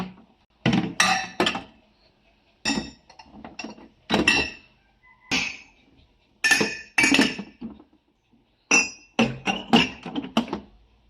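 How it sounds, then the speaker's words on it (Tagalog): Drinking glasses are set upside down one by one onto a dish rack during household cleaning, giving a steady series of close, bright glassy clinks and knocks in short clustered bursts with brief pauses between. "Ayan na po, naayos na natin yung mga baso. Ayan, naitaob na natin."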